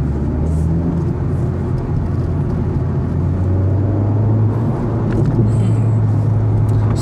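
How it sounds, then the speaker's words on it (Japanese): Honda Civic Type R driving on city streets in comfort mode, a steady low engine and road rumble with a faint hum rising slightly through the drive, heard from inside the cabin without talk. "今ね、スポーツモードだったので、コンフォートモードに回して走っております。"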